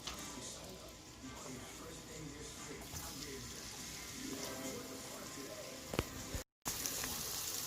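Chopped garlic, scallion and onion frying in hot oil for Jamaican-style curry chicken feet, giving a steady, quiet sizzle throughout with a brief dropout near the end.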